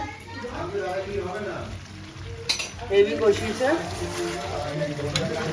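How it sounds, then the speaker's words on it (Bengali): Chicken kosha cooking in a pot for a large dinner: soft sizzling and stirring with occasional utensil clinks against the pot, under nearby talk. "রান্না হচ্ছে চিকেন কষা ও তেলটা যেন ছাড়ে"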